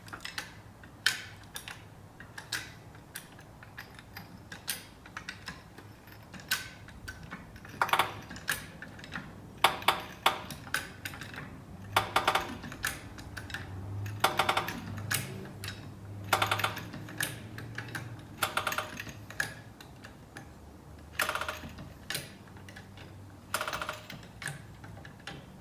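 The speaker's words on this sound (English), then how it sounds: "Have a listen to my rear suspension." Creaking and clicking from the rear suspension of a blue-black Mercedes W124, a run of sharp irregular clicks and squeaks repeating over a low rumble, fairly close and without any talk.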